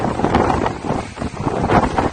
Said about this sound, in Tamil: பலத்த காற்று வீசுகின்றது